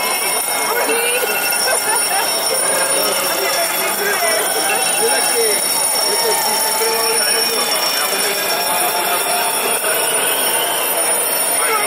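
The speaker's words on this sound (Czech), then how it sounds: "já vás požádám, abyste vypli své budíky" Many alarm clocks ring at once in a continuous, overlapping electronic clamor, loud and sustained, with a crowd murmuring beneath at a public demonstration.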